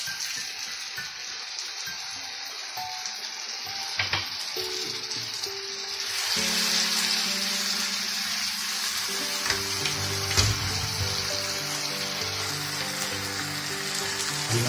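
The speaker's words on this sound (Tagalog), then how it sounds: "luto na ang kamatis. Ilalagay naman natin ang tuna." Tuna tipped into a pan of already-cooked tomatoes for a Bicol express pasta sauce, crackling and sizzling steadily, with the frying growing busier and louder after the fish goes in, plus occasional stirring scrapes.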